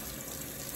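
Tap water runs steadily from a kitchen faucet as raw cube steak is rinsed in the sink, a continuous soft hiss that stays fairly faint.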